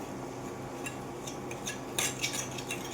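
A metal spoon scrapes and clinks against a pot while stirring in cumin and spices, with a few sharper knocks over a quiet background.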